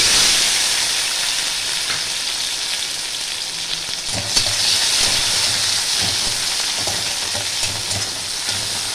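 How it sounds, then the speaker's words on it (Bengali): Chopped tomatoes fry with bay leaf, dried red chili and black cumin in a pan for a taro curry with hilsa fish head. A steady, close hiss of sizzling oil is broken by a few soft stirring knocks. "টমেটো একটু ভাজা হবে।"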